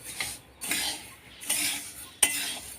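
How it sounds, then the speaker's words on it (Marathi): Coriander seeds dry-roasting in a pan without oil, stirred in bursts with a spatula, giving loud scraping and rattling sweeps separated by short pauses and one sharp metallic clink. "तेल न टाकताच धने भाजून घ्यायचे आहेत"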